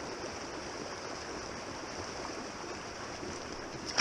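A small creek in northwest Wisconsin trout country flows with a soft, steady rush and trickle of water, continuous and fairly quiet, with no voices.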